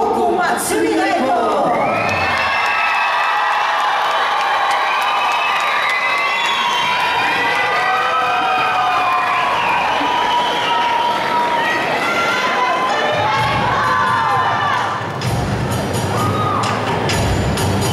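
A large festival crowd at a Japanese cultural festival in Brazil greets a taiko drum group with loud, sustained cheering, whoops and shouting, joined by children's high voices and some clapping, filling the space continuously.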